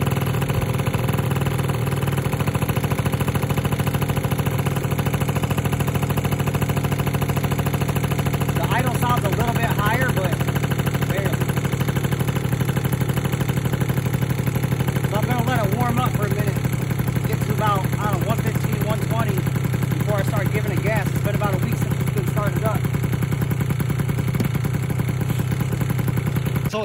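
A Vento Triton R4 motorcycle engine idles steadily after carburetor tuning, a constant mid-pitched drone with mechanical clatter, while a person talks intermittently over it in the middle and later part.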